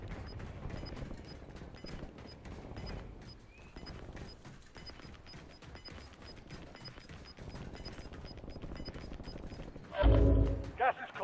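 Gunfire in Call of Duty Warzone, a steady stream of rapid shots over a constant game soundscape, ending in a louder burst near the close.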